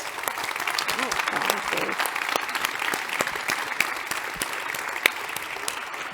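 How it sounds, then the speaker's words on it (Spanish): Audience applause at a conference panel on Europe and the 2030 Agenda, steady dense clapping for about six seconds, fairly close and even in level with a few sharper individual claps standing out. "Un aplauso para nuestras ponentes."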